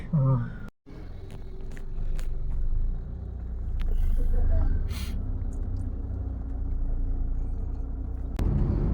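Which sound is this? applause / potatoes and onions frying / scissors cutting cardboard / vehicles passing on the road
vehicles passing on the road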